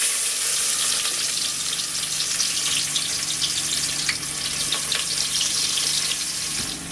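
Onion frying in a pan for mutton bhuna gosht gives a steady, loud, hissing sizzle that runs unbroken for several seconds, with no voices.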